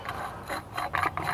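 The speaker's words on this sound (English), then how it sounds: "Now I'm gonna thread the longer pipe" A longer pipe is threaded by hand into a paint can biochar reactor, giving short grinding, ratcheting metal-on-metal rasps in close, uneven strokes with no voices.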